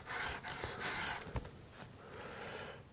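A marking knife bevel rubs back and forth across a sharpening stone in close, steady rasping strokes, with a brief sharper scrape midway.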